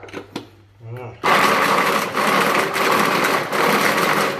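An electric blender grinds rice-field rat meat for a spicy stir-fry, starting abruptly after a brief spoken remark and then running as a loud, steady high whir with slight surges.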